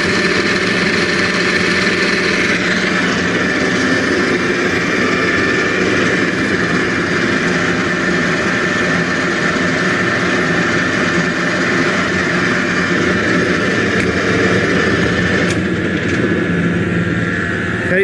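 A Colchester Triumph 2000 conventional metal lathe runs with its power feed engaged, giving a continuous, steady mechanical hum and whine with a faint gear drone, close and unbroken throughout.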